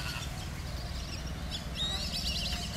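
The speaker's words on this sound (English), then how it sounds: "There's some grackles in the background too, but most of what you're hearing is the black-bellied whistling ducks." Black-bellied whistling ducks give thin, high squeaky calls, with grackles in the background. The squeaks are faint and come late, over a steady low rumbling ambience.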